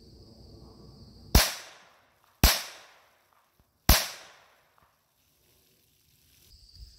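Three sharp .22 LR Mini Mag hollow point shots fired into milk jugs, each a loud crack with a short decaying tail, spaced about a second apart, with quiet background between them.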